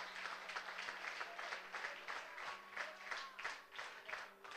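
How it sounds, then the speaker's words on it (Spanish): Loud, uneven applause fills a church, with the congregation clapping in surging bursts for God. Low sustained tones sit beneath the clapping. "Aplaudilo a Dios bien fuerte, hermano."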